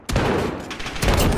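Gunship cannon fire in Modern Warfare, two loud bursts of rapid booming shots close together, the second starting about a second after the first, with no talk.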